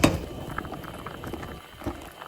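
Strawberry jam bubbles hard in a wide cooking pot, a steady close-up of thick popping and gurgling, with a few louder bursts rising from the surface.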